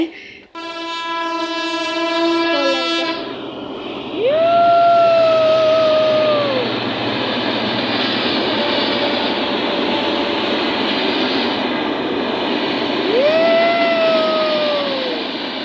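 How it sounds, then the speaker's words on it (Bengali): A train passes close by with a loud, sustained rumble of wagons lasting throughout, while its horn sounds in long blasts near the start and again toward the end. "পাশ দিয়ে একটা ট্রেনও গেছে"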